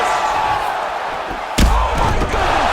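UFC 5 video game crowd roaring through a fifth-round fight finish, a continuous loud cheer with a sharp heavy thud partway through and swelling noise after it.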